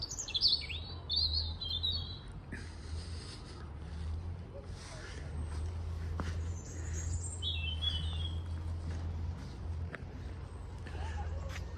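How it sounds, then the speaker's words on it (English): A bird sings loud, high warbling phrases in bursts, clear and close, over a low steady engine-like hum. "Very loud robin."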